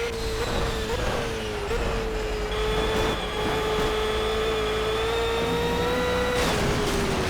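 A racing car engine in a racing video game drones loudly and steadily at high revs, its pitch wavering slightly and climbing briefly near the end, with no talking.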